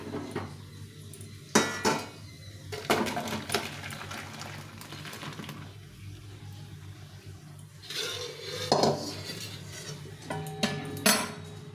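A cooking pot of ridge gourd dal gets taken off the stove, with several sharp metallic clanks and scrapes of the pot and utensils spread over a quiet kitchen hum, some strikes close and ringing.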